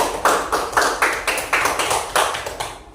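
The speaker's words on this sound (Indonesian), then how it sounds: "tepuk tangan untuk kelompok 1 anak-anak sekalian" Rhythmic group clapping for the first student team in a classroom, a steady patterned beat of about ten sharp claps, close and loud with no talking over it.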